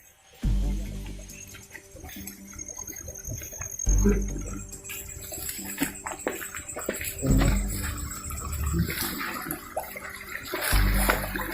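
A small river flows over rocks along a rough walking path, giving a steady wash of trickling water, with heavy footsteps and low thumps breaking in now and then.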